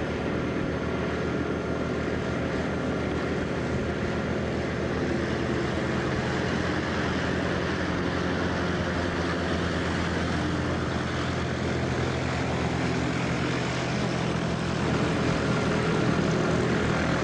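A propeller airplane comes in to land from the north at a small airfield, a loud, steady engine drone that holds throughout with no talking.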